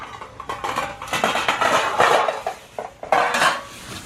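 Metal food trays clattering and banging as they fall over at a cold snowy campsite, a couple of bursts of rattling metal close by with no talk.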